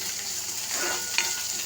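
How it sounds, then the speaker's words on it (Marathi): Onion frying in oil in a pan for a prawn dish, with a steady close sizzle throughout and a single light scrape of a spoon near the end, with no voices. "इथे कोलंबीसाठी तेल ठेवले आहे. त्यासाठी कांदा टाकला आहे."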